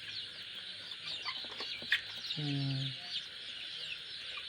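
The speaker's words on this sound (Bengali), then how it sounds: "এখন মুরগিগুলো বহুত বড় হয়েছে।" Grown backyard chickens cluck nearby, scattered soft clucks and one clear drawn-out call, over a steady outdoor hiss with faint voices.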